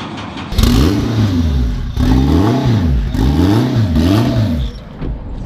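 A Honda motorcycle engine fires up and revs in repeated rising and falling surges, loud and close, at a Honda dealer in Fukuoka, then eases off near the end.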